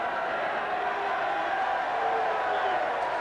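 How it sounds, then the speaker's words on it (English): Crowd cheering and roaring at a 2002 Hull KR v Chorley rugby league match, a steady, dense wash of many voices sustained loudly throughout without breaks. "But that was the loudest cheer of the match."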